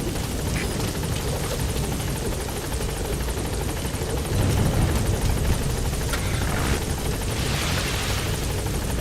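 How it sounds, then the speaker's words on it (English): Helicopter from a Metal Gear Solid V: The Phantom Pain mission arriving for extraction, a steady loud rotor thrum and engine roar that swells slightly midway and holds throughout, with faint game effects on top. "Support helicopter extraction arrived at Vengeful."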